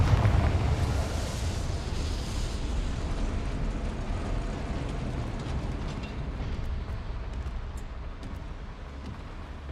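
Spell explosion from the Confringo curse in a Harry Potter video game: a loud rumbling blast that opens strongly, then trails into a long, rough, crackling roar that slowly fades.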